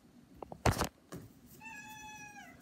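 A voice imitates a cat, giving one drawn-out, tonal meow after a couple of short soft sounds and a brief louder burst.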